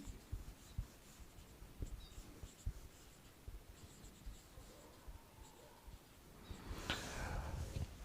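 Faint scratchy strokes of writing on a board during a maths lesson, soft and close, with irregular short marks and a brief louder rustle near the end, no talk heard.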